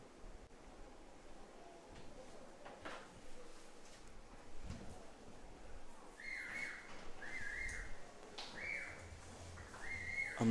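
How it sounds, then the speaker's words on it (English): Spectators whistling during a girls' junior 1m springboard dive at an international diving championship: several drawn-out, fairly loud whistles in the second half over a quiet, roomy pool-hall background. "There was a lot of whistling going on during her dive."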